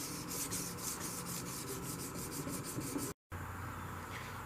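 Steady, rhythmic rasping of sandpaper scrubbing back and forth over a hard surface of wood, brass and steel, close up, with a brief dropout near the end.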